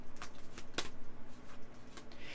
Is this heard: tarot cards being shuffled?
yes